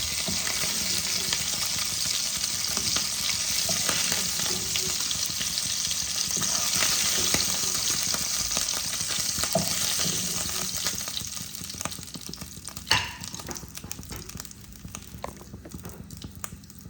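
Ilish fish fry in hot oil with a steady loud sizzle that eases toward the end, joined by a few clinks and handling sounds as the pieces are lifted out.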